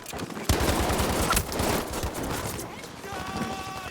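Gunfire crackles in bursts through a shooter video game match, rapid shots layered over an excited esports commentator's voice.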